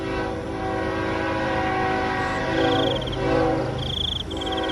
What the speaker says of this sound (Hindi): ट्रेन की आवाज भी अब तेज हो जाती है